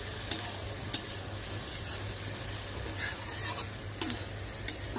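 Poha seasoned with Maggi masala being stirred in a hot pan. It gives a steady low sizzle with a few sharp spoon scrapes and clinks at intervals, close and fairly quiet.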